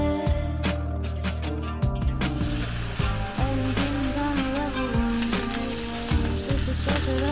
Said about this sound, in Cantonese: 雞胸肉最好食嘅方法應該係咁樣成嚿煎咗佢啦